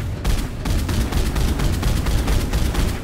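Striker gun from Mass Effect 3 firing a rapid, steady stream of heavy shots, loud and close with no talking, the blasts running together into a rumbling automatic barrage.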